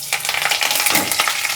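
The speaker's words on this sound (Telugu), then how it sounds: "వెల్లుల్లిపాయ, జీలకర్ర, ఆవాలు, ఎండుమిరపకాయ తాలింపు వేసాను." Garlic, cumin, mustard seeds and dried red chillies sizzle steadily in hot oil as a tempering for a village-style jackfruit seed curry, a loud, close, continuous crackle with no talking.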